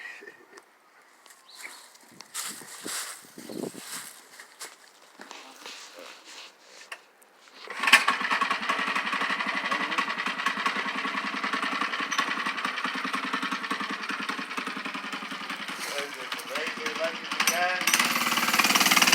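A Razor scooter converted to a 79cc gas engine with dual exhaust runs outdoors, first idling and sputtering, then revving into a loud, steady, buzzy drone close by.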